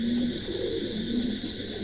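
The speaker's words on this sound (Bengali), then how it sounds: "এখানে একজোড়া এক্সিবিশন হোমার আছে, অ্যান্ডুলেশন থেকে আসা বেবি দুটাই।" Exhibition homer pigeons, a young pair, coo softly and steadily in a loft, a low repeated cooing held over a continuous background hum with no talking.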